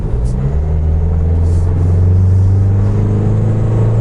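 An Isuzu D-Max 4x2 automatic pickup drives in second gear on a mountain road, its engine a loud, steady low rumble that rises slightly as it pulls, close and continuous with no talk.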